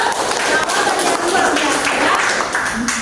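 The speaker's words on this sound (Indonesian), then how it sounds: "Tepuk tangan dulu." Students in a classroom clap together, a dense, fairly loud burst of hand claps mixed with chatter and voices throughout.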